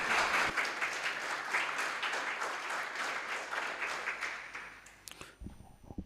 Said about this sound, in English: Everybody, please give our today's presenter, Nirmal, a big round of applause